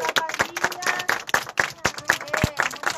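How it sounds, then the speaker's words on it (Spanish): Children at a kindergarten clapping for a radio station, rhythmic, fairly evenly spaced sharp claps in a group, with voices mixed in among the beats. "Un aplauso quiero. Para esta radio."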